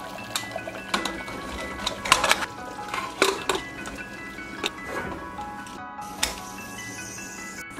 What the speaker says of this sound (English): close it with the lid.